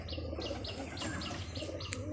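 Racing pigeons at a flying loft, wings flapping with repeated short chirps and calls over a steady low background hum; no talking.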